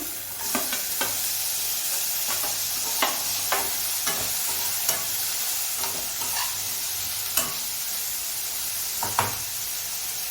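Chopped tomatoes sizzle and fry steadily in a hot pan for a dal bati masala, with a constant hiss broken by occasional sharp crackles and stirring clicks, fairly close and with no voices.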